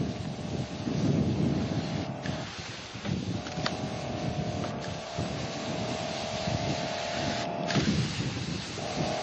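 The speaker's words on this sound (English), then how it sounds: "We have a nice breeze here." Wind gusts across a shingle roof, rumbling loudly into the microphone in a continuous buffeting roar that rises and falls, with a steady tonal hum running through it.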